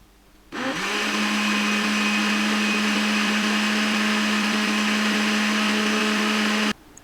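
A kitchen blender runs continuously for about six seconds, whirring steadily at close range as it mixes a sharbat of water, Tang and salt, starting and stopping abruptly with no voices.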